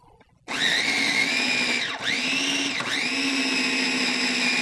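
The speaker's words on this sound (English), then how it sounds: "And we're going to go ahead and blend it." Countertop blender whirring through an arugula dressing seasoned with salt and pepper, loud and close, starting abruptly and holding a steady high whine with two brief dips in pitch as the load shifts.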